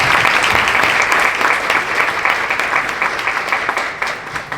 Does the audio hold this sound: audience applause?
yes